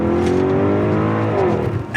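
An Audi RS Q8 SUV accelerates hard, its engine note climbing in a loud, steady rising roar heard up close for a couple of seconds.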